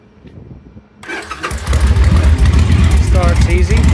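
A 2005 Victory Kingpin Arlen Ness Edition motorcycle starts after about a second of quiet, cranking briefly before catching into a loud, close, throbbing V-twin idle that holds steady to the end.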